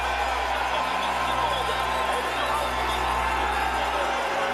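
Spectators at a women's biathlon World Cup pursuit race in Annecy, France, make a steady, dense crowd roar with constant broadband noise and no distinct cheers standing out.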